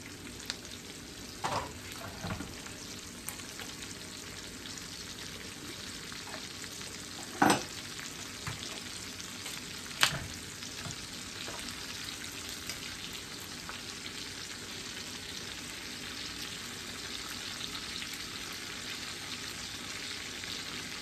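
Cabbage, sausage and shrimp cook down in a pan with a quiet, steady sizzle and a few sharp clinks and scrapes of stirring.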